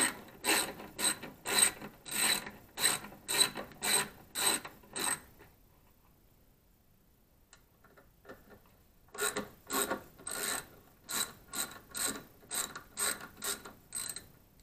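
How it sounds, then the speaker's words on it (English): A ratchet wrench loosens the bolt on a 2005 Mazda6 camshaft position sensor, giving close, rapid clicking bursts in two runs separated by a quiet pause. "So I'm just going to take this bolt off here."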